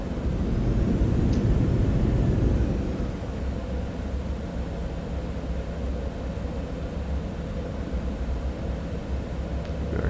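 Thrust reversers on a Cessna Citation X (C750) in Microsoft Flight Simulator 2024 give a steady, loud jet-engine roar, strongest in the first couple of seconds before easing to an even rush of noise, with no voices.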